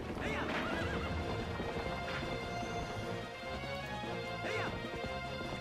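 Horse in the Twilight Princess video game neighing and whinnying twice with galloping hooves clip-clopping steadily beneath, set against busy game music and battle noise.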